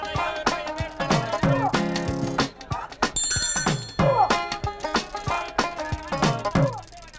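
A telephone rings through a Tamil film scene, repeated ringing tones in a bright, musical pattern mixed with other background sounds and bursts over several seconds.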